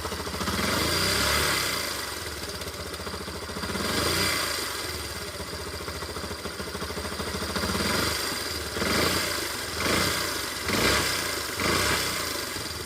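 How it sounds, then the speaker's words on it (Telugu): A Yamaha SZ-R motorcycle engine with a loose tappet screw idles nearby with a persistent rapid ticking clatter over the low rumble, swelling slightly in a few light revs. "మనకు ఇంజన్లో ట్యాప్ పెట్టిన స్క్రూ లూజ్ అయితే ఈ బండికి మాత్రం ఈ విధంగా వస్తుంది"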